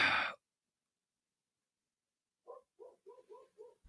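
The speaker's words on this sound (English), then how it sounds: "I can hear them woofing this morning all over the neighborhood." Dogs bark outside in a residential neighborhood, a faint, distant run of about five short woofs in quick succession following a brief breath and a long quiet gap.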